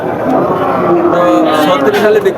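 A cow at a livestock market gives a loud, close, drawn-out moo lasting a couple of seconds, with faint crowd noise around it.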